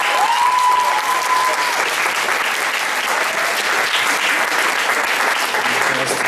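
Loud, continuous applause from a concert audience at a jazz and blues carol concert for a singer, a thick even wash of clapping throughout, with a brief vocal tone near the start.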